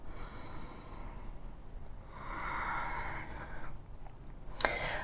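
Slow, deep breaths during a yoga session: a soft, airy inhale swelling in the middle, followed by a quieter exhale and a small sharp click near the end, close and fairly faint.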